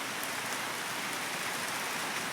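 Steady, even winter rain with hail falls throughout, making a continuous wash of pattering drops with scattered sharper taps.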